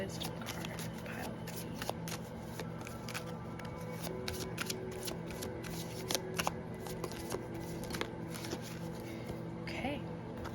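Chakra wisdom oracle cards are shuffled with a steady run of soft riffling and snapping, with small sharp clicks over a constant hiss.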